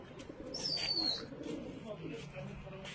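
Domestic pigeons coo softly in Karbala, with low murmuring calls and a brief high chirp, under faint background voices.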